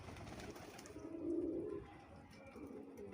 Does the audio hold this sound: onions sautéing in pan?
no